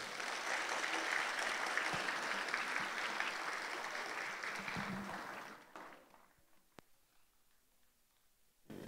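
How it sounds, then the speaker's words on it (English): Warm, sustained applause from guests at a junior high school graduation ceremony in Dubai, a dense steady clatter of many hands that fades around the midpoint to a thin scatter of claps. "let's give them a warm round of applause"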